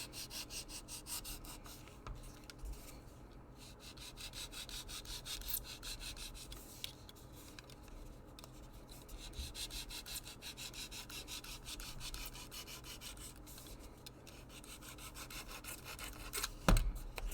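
Steady rubbing and scraping of sandpaper over the lip of a homemade LARP-safe rapier, continuous and close, with a slight bump near the end.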